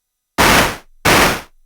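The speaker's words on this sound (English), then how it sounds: "So with the LFO set to square and one shot" Two short bursts of harsh, noisy Minilogue XD synth tone with the LFO set to square wave and one-shot, each cutting on abruptly and stopping cleanly, separated by a brief gap.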